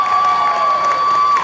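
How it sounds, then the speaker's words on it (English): Convention audience at Collect a Con applauding voice actor Johnny Yong Bosch, a dense steady clatter of many hands with a faint crowd murmur and a sustained tone running underneath. "Everybody give him a round of applause today."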